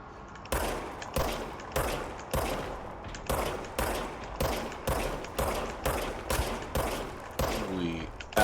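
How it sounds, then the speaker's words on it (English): Service weapon gunfire in the video game Control, a dozen or so loud, punchy shots fired in a steady rhythm about every half second, with a brief tonal sound near the end and no talking. "Okay, now I have a gun. Right trigger to fire."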